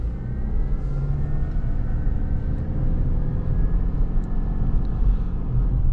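A 2026 Subaru Outback Wilderness with a CVT drones steadily from inside the cabin while driving, a constant low hum with faint tonal whine and road rumble and no pauses.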